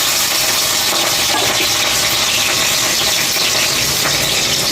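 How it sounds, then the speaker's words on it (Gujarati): Cumin seeds, curry leaves and chilies hit hot oil in a pan, making a loud, close, continuous hiss and crackle that stays steady throughout. "તેલ ગરમ થઈ ગયું છે એટલે આપણે જીરું નાખી દઈએ"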